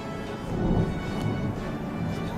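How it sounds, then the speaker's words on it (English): Thunder rumbles in Florida, a low, broad roll that swells and fades without pause. There is no talking. "It's thundering!"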